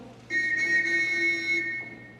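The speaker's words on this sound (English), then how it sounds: "A whistle." A single shrill whistle blown onstage during a theatre production of Sherlock Holmes, one sustained piercing blast of about a second and a half that cuts off cleanly over a quiet room.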